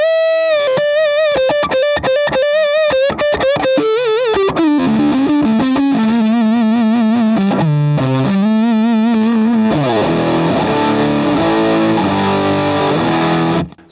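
Electric guitar through a Dirty Boy Buzzy Boy fuzz pedal at heavy gain, with the frequency switch adding bottom end: loud, thick, saturated notes and stabs, then sustained fuzzy chords ringing out near the end, no talking.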